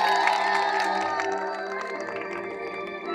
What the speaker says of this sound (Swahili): Shangilia Yesu makofi makubwa na vigelegele